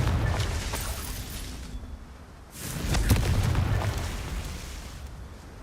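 A Confringo spell explosion in Hogwarts Legacy lands with a loud boom, one burst fading over a couple of seconds before a second, louder blast swells up and rumbles out.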